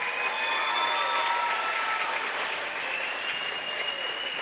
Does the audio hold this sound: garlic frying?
no